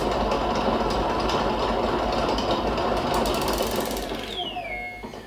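A Teddy stand mixer with its dough hook fitted kneads dough, a steady loud motor whir with rhythmic mechanical churning that eases off and winds down with a falling whine near the end.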